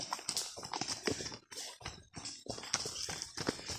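Horses walk along a trail, their hooves clip-clopping in an irregular, continuous patter of close thuds and taps, with rustling movement throughout.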